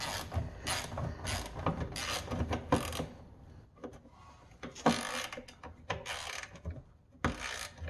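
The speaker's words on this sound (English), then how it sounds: "Yes, a cordless ratchet" A cordless ratchet snugs down a fastener on a John Deere Quiktrak's fuel tank, giving repeated bursts of whirring, clicking mechanical noise close by, with short pauses between runs.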